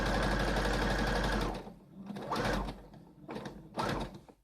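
A sewing machine stitches a T-shirt, running in a steady continuous whir for about a second and a half, then sounding in shorter separate bursts with brief pauses between them.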